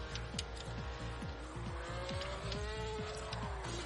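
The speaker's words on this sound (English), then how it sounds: "I wish you could turn down the engine noise." Racing engines from the Extreme G Racing video game whine in a continuous, rising electronic drone with rapid rhythmic pulsing underneath, steady and moderately loud with no talking.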